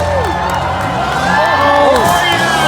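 A crowd at a Tuff Trucks off-road truck event in Mandan, North Dakota cheers loudly and continuously, with whoops and shouts rising over the steady roar of the stands, and voices call out throughout.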